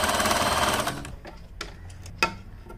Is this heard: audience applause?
no